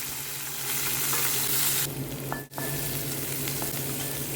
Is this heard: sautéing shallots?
yes